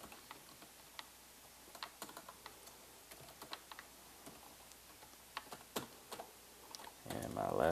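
Keys on a computer keyboard are tapped while data is entered into a spreadsheet, making quiet, irregular clicks in short bursts with a louder rustle at the end.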